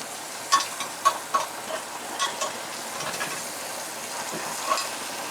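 Steak frying in a pan while being basted with butter sauce, a steady close sizzle with occasional louder spoon scrapes and spatters, no talking.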